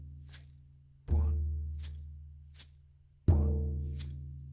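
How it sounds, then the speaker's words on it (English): A big drum strikes twice, a deep booming hit each time, with a small shaker rustling softly in between in a steady triple rhythm. The sounds are close and alone, with no voices. "I've done a big drum for beat 1 and a little shaker for beat 2"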